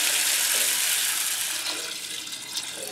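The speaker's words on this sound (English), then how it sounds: "So I'm gonna add some water." Water poured from a container into a rock tumbler barrel while preparing it to tumble copper pipes, a steady close splashing fill that eases off toward the end.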